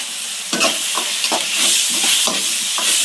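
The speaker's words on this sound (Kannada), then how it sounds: "ಇದು ಚೆನ್ನಾಗಿ ಫ್ರೈ ಆಗಬೇಕು" Mirchi batter seasoned with salt and turmeric frying in hot oil, a loud continuous sizzle broken by repeated scraping strokes of a spoon stirring, no one speaking.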